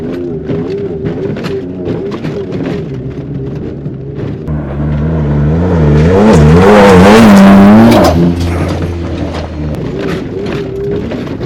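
An off-road truck fitted with a mid travel suspension kit from Locked Offroad drives loud and close over whoops and sand dunes, its engine note rising and swelling into a strong rev around the middle before easing back to a steady drone.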